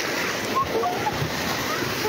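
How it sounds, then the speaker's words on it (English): Tsunami waves strike the coast of Tonga after a volcanic eruption, heard as a dense, continuous roar of surf and rushing water with wind buffeting the microphone. "Tongans are on the beach to film the first waves hit the coast."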